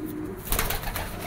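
Racing pigeon cooing close by, giving a short soft throaty coo that rises out of low background noise.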